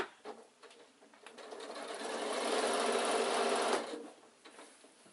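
A sewing machine runs across an insulated picnic bag in one rising, steady burst of whirring after a few short starts. It is close and alone, then stops abruptly.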